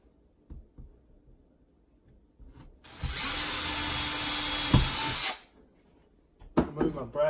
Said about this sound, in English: Drill me a pilot hole.